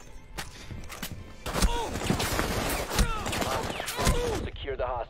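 Gunshots crack out in a Rainbow Six Siege match amid busy game noise and clatter, several sharp loud reports scattered through the stretch as players talk over the action.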